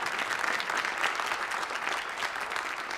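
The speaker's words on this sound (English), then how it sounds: "let's give both of them a round of applause as well" An audience at a city awards ceremony claps in sustained, dense applause that stays even and loud for the full few seconds, with no speech over it.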